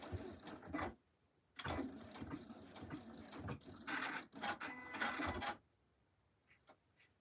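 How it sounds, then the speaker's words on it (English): A Juki industrial sewing machine runs in several fast bursts of mechanical stitching, each a few seconds long with pauses between, close and moderately loud, with no voices. "Oh, they just sew through anything, Juki Industrials."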